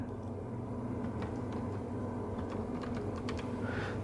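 Keys on a computer keyboard tapped in quick, uneven bursts while a reservation is entered, the clicks light and close over a steady low background hum.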